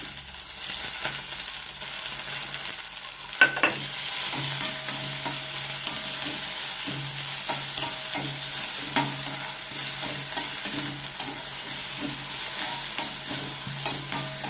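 Green chilies sauté in a pan over a low flame with a constant soft sizzle, broken by occasional scraping stirs and clicks.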